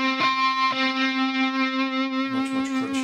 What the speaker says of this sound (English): I change the setting on the distortion pedal and I turn it way up